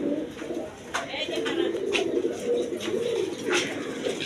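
Satin pigeons coo in a low, repeated, throaty murmur that carries on steadily up close, broken by several sharp flicks and clicks from the birds.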